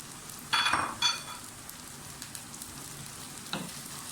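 Okra frying in a pan with onions for masala bhindi: a few loud hissing bursts as the pieces go in, fading to a quiet, steady sizzle with a short clatter near the end.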